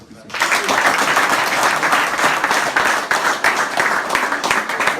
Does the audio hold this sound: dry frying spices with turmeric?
no